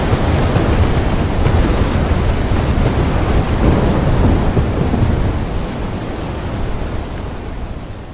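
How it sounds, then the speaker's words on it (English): Heavy ocean waves crash against the bow of a ship in the video game Will: Follow the Light, a dense, continuous roaring wash of broadband noise that stays loud throughout and eases slightly toward the end. "the roar of the waves crashing against the bow thundering through the screen"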